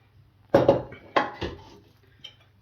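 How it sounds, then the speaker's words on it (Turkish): Spoon scraping and tapping in a lasagna dish while spreading béchamel filling, three or four close clinks and scrapes in quick succession, then a faint final tap. "Ve bir kaşık yardımıyla gezdiriyorum iyice"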